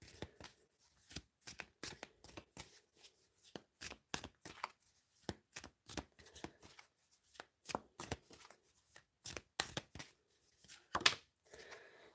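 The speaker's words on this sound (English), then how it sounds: "Let's get another couple of cards for your person." Tarot cards being shuffled and drawn by hand, a steady run of crisp riffling snaps and slaps repeating about every half second, close and fairly quiet, with no talking.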